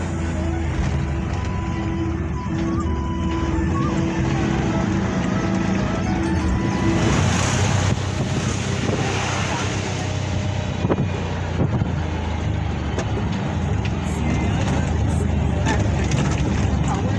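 Auto rickshaw riding along a narrow village road, its engine droning steadily with wind buffeting the microphone and road rattles throughout, loud and close, with a louder rush of passing traffic partway through.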